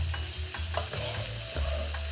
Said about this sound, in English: Listen to that sizzling sound.